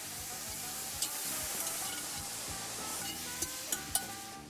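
Squid sizzling quietly in a hot pan while being stirred, a soft continuous frying hiss with a few sharp pops and clicks of the utensil near the end.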